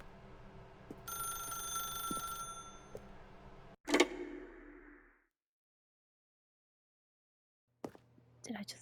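A telephone rings in the video game The Stanley Parable: Ultra Deluxe, with a sustained ringing tone and then a sharp, bright clattering burst. Near-silence follows, broken by a brief sound at the very end.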